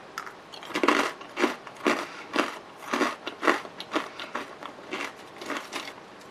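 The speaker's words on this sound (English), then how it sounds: "Quite crunchy again, as you could listen" Repeated crisp crunches of a salty, spicy Japanese snack being bitten and chewed up close, about a dozen in an irregular rhythm with no talking.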